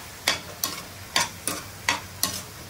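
Curry leaves going into frying gongura chutney, heard as six evenly spaced scraping strokes of a spoon or spatula in the pan over a faint background sizzle, close and without speech.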